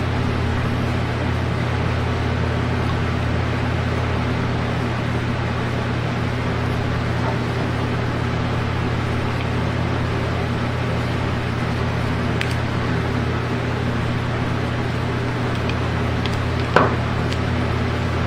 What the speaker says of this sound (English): And I do have a fan on, so obviously you got some background noise.